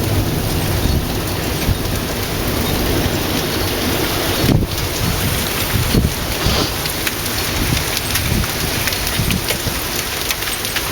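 Heavy rain falls steadily in a thunderstorm in Waco, with wind buffeting the microphone and a sharp crack or rumble partway through. The downpour stays loud and continuous throughout.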